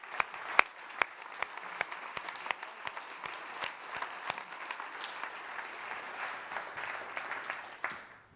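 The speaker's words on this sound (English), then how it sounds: "We should give her a round of applause." Audience applause after a presentation, a steady round of clapping from a room of listeners with sharp individual claps standing out near the front, fading out at the end.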